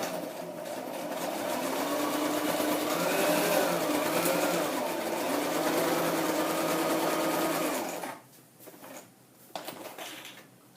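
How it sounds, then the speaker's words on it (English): Sewing machine stitching a zigzag on a scrapbook page, a steady continuous whirring hum for about eight seconds, then stopping with a few faint handling clicks. "I love the machine stitching"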